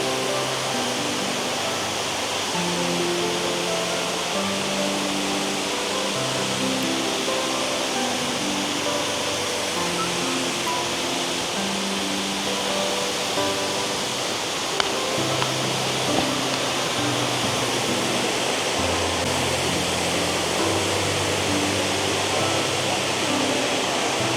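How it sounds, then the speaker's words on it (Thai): Khlong Lan waterfall, a large and very tall falls, roars in a dense, unbroken wash of rushing water that stays loud and steady throughout, with faint voices barely showing beneath it. "น้ำตกคลองลานแบบช่ำๆสูงสูงสูงมากครับ"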